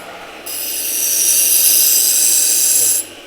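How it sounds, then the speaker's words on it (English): A leatherwork pattern knife blade is ground slowly on a sharpening wheel, giving one loud, steady high-pitched grinding hiss that starts abruptly, holds for about two and a half seconds, then cuts off. "Because grinding this blade, I've got to go really slowly"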